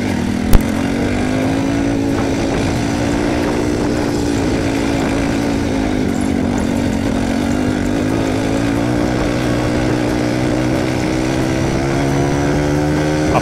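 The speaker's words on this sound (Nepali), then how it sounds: "तपाईलाई बाइक राइड गर्दा थाकेको महसुस पनि हुँदैन" Motorcycle riding along the Karnali Highway in Nepal, its engine a steady, continuous drone with a rising and falling pitch throughout, close and loud with no talk.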